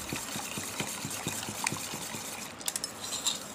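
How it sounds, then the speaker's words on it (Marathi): A whisk beats thick homemade curd in a bowl for matka dahi, giving quick rhythmic tapping strokes against the sides over a steady wet swishing, close and fairly loud. "त्यानंतर विस्करने छान मिक्स करून घ्यायचं."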